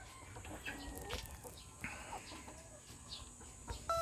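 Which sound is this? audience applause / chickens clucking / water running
chickens clucking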